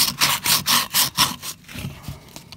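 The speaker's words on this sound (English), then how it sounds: "This is kind of an old worn out hunk of 80 grit sandpaper." Hand sanding with an old, worn piece of 80 grit sandpaper makes about six rhythmic, gritty back-and-forth scrapes, close and clear, before trailing into softer, irregular rubbing.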